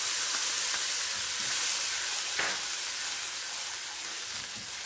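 Onion paste for koftas sautéing in a pan, a steady close sizzle and frying hiss running throughout with a few faint stirring scrapes and no talk.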